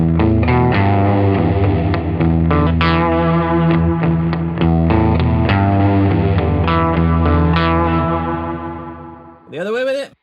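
Electric guitar played through a Spruce Effects Jr Ranger Yosemite reverb pedal with pre-delay turned up, a run of plucked, distorted notes ringing into a lush reverb tail before a brief swooping squeal at the end.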